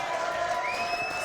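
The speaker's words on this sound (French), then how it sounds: "applaudissements pour Roxy." A studio audience applauds on a French TV show, a steady wash of clapping over sustained musical tones for just over a second.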